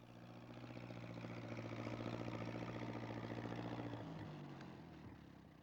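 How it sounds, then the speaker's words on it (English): A steady mid-pitched engine chugs along for several seconds, rising slightly then settling to a lower tone near the end, with no voices. "He's going to try to get through with his tractor."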